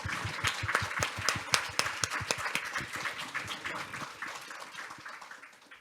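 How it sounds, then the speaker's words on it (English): Audience at a women's empowerment peacekeeping forum gives speakers a final round of applause, distinct claps fairly quiet and gradually thinning and fading out toward the end. "please give the final round of applause to our speakers"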